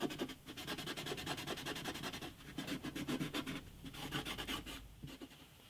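A cloth soaked in naphtha is rubbed back and forth across the top of an antique parlour guitar in quick, close scrubbing strokes that pause briefly now and then.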